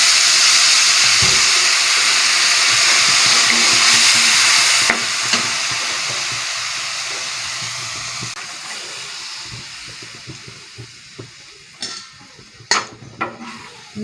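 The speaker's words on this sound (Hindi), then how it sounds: "थोड़ा सा पानी डालेंगे।" Water poured into a hot pan of kadhi with red chilli and turmeric sets off a loud, continuous sizzle and hiss that slowly fades, broken near the end by a few sharp stirring clinks.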